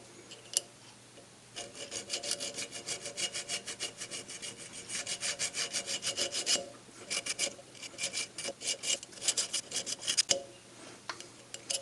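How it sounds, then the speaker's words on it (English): A metal file rasps steadily along the worn steering column splines of a Ford Thunderbird steering box, a close, continuous run of rhythmic scraping strokes with a few brief pauses and no voices. "Different file. Might get down into the bottom of the groove a bit better."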